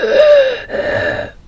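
A voice imitates the laboured, pained breathing of a wounded person hidden in a nearby bush: two drawn-out, wheezing breaths, close and alone.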